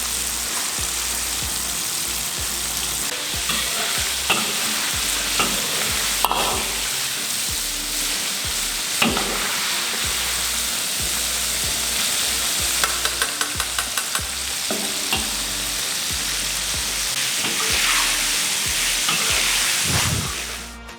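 Chicken karaage fries in oil over medium heat, a constant loud crackling sizzle with occasional stirring clinks and pops, continuing unbroken without any voices.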